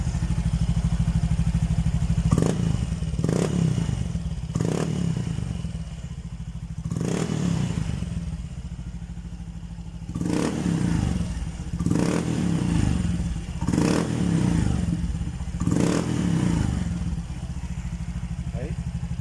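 A Honda Genio scooter fitted with an EXOS X6 exhaust with its silencer removed revs repeatedly, about eight sharp throttle blips rising over a steady idle, loud and close.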